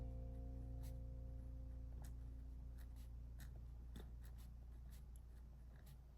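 A pen writes notes in a paper planner, soft scratchy strokes and small taps in an irregular rhythm, close but faint against a low steady hum, with no talking.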